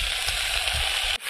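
Fenugreek (methi) leaves dropped into a pan of sizzling spices for a dry besan methi bhaji, giving a steady loud fry hiss with a brief dip near the end as the leaves hit the oil.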